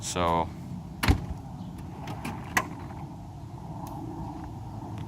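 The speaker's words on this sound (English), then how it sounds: "So the soft close of the trunk is also corrected." The trunk lid of a 1999 Mercedes CL500 soft-closes with a brief motorized whir followed by a soft thud and small clicks, close by, with a voice speaking briefly.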